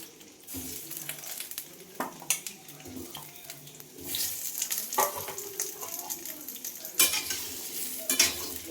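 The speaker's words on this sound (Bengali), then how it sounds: "আলুটা দিয়ে দিলাম, আলুটা ভেজে তুলে নেব।" Potatoes frying in a pan of oil, a close sizzle that swells louder midway, with clattering stirs and metallic knocks of utensils against the pan.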